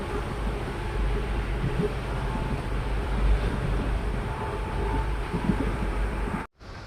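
Mysore–Yesvantpur Express running toward Hassan, a steady loud rumble and rattle of the carriage with rail noise throughout, cutting off abruptly at the end.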